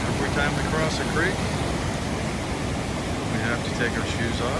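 A creek on the High Sierra Trail rushing loudly and steadily, mixed with gusty wind buffeting the microphone, with faint voices now and then.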